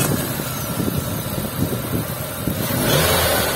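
A Nissan Grand Livina's HR15D engine starts and settles into a steady mid-pitched run, close and continuous, swelling slightly at the end.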